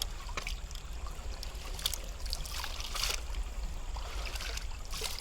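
Gold concentrate from a sluice box gets washed in a bucket, water sloshing and trickling in uneven splashy bursts close by, with no one talking.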